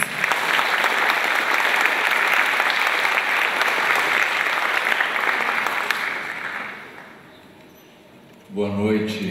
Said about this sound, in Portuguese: Gostaria de chamá-lo aqui à frente, que vocês também recebessem com palmas, Francisco César de Oliveira Santos.